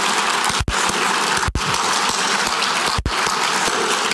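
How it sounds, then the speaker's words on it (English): Audience applause at an orchestra league's annual meeting and luncheon: steady, dense clapping from a large crowd held at an even level, broken by a few abrupt momentary dropouts. "So quick round of applause, if we may, for support for the National Endowment for the Arts."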